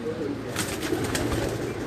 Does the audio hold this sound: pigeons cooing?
yes